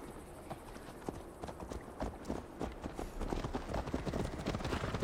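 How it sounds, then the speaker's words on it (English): Horse hoofbeats from a mount in Assassin's Creed Valhalla: steady rhythmic clip-clop of galloping hooves, close and continuous, with riders' voices faint in the background. "Mount up, Eivor. It's a long ride to Tamworth."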